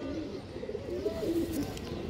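Pigeons of old Bengali fancy breeding lines coo in low, rolling phrases, steady and close throughout, with a soft swelling call standing out midway.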